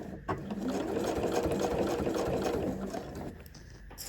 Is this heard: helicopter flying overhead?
no